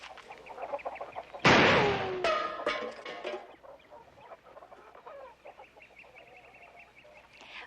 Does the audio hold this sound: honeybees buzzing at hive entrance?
no